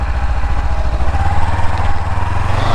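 The engine of a 2021 Kawasaki Ninja 300 BS6 motorcycle revs up close, its low throbbing note swelling and holding as the throttle opens, loud and alone without talk.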